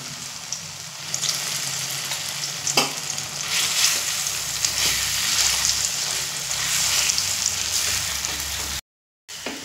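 Mung dal paste frying over medium flame, stirred in a pan: a dense steady sizzle with occasional scraping strokes, close and loud, broken by a brief silent gap near the end.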